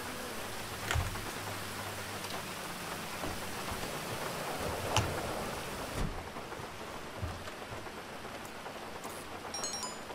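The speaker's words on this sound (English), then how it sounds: "Rain." Steady, heavy rain in the game GTA Online hisses continuously, with a few faint low rumbles of thunder and occasional louder drips mixed in.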